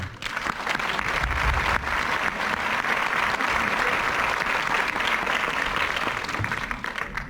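An audience applauds at a film presentation in a theatre, giving dense, even clapping that holds steady and close for the whole stretch, with only faint crowd murmur beneath.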